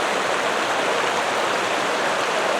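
Rushing flood water of Wolf Creek boiling over a deep spot, a loud, dense, unbroken roar of churning water filling the whole stretch without a pause.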